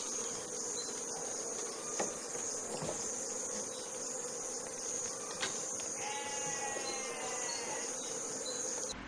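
Honeybees buzz around a hive during a honey harvest, a steady droning hum under high insect chirring, faint and continuous with a few brief knocks.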